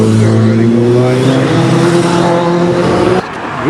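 Police motorcycles and vehicles roll past on a street in Cape Town's Bantry Bay, a loud, close, continuous engine roar with shifting pitch that cuts off abruptly near the end, followed by a brief voice.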